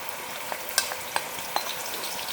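Soft continuous sizzling of chopped onions, garlic, ginger and green chilies frying in hot oil, with a few light scrapes and taps of a stirring spoon against the pan.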